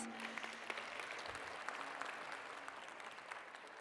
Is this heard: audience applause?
yes